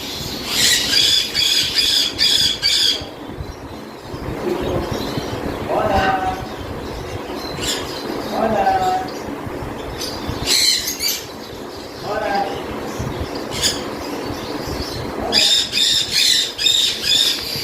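A tame pet bird kept ahead of breeding age gives shrill, harsh squawks in repeated bursts, loud and close, separated by quieter rustling and softer calls.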